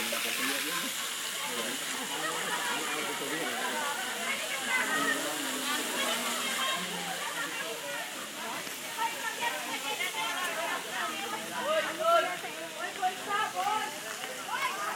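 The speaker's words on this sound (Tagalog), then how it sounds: "Oh, yung falls, Ano yung falls." Falling water rushes in a steady, broad hiss at a river waterfall, continuous and moderately near, while several people talk over it throughout.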